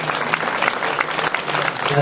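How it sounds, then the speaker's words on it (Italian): Applause from an audience thanking a choir at a civic honorary citizenship ceremony, a short burst of dense clapping with voices faintly mixed in. "Facciamo un applauso e ringraziamo la corale"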